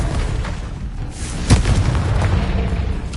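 A Confringo blasting curse from a Harry Potter video game goes off as one loud, booming explosion partway through, then trails into a rumbling tail over steady low background noise.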